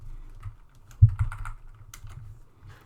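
Keys tapped on a computer keyboard during a C programming lecture, a short quiet burst of uneven clicks with one firmer press near the start.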